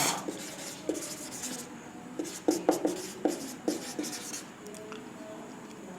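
Hand writing on a board during a physics lesson: a series of scratchy, rubbing strokes in short bursts with brief pauses between them, close and fairly clear.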